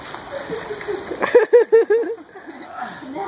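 Children kick and splash in a swimming pool with a short burst of rhythmic splashes, under nearby voices.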